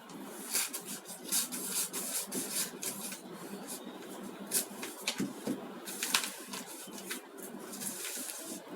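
A cloth bag gets a zip stitched along both sides, with a thin strip of fabric added on top. Steady, close rubbing and rasping of fabric and needlework runs throughout with small irregular scratchy bursts, and nobody speaks.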